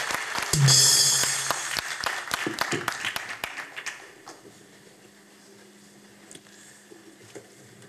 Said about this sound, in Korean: 우리 한번 다 일어나서 기립박수로 모시겠습니다